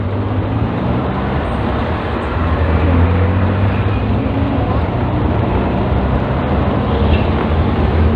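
Continuous road noise inside an angkot minibus moving through traffic: a low engine drone and rumble that swells slightly partway through, steady throughout with no clear talk.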